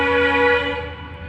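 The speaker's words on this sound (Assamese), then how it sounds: "সেইখন ট্ৰেইন আহি আছে" A train approaching from the Moran side sounds a sustained, tonal horn blast. It is loud and fairly close, holds steady, then fades slightly toward the end.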